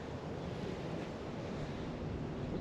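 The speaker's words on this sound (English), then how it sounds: "it's a bit windy" Wind buffets the microphone at the Coldrum Long Barrow stone circle, a steady, dense rushing roar that fills the whole moment without any voices.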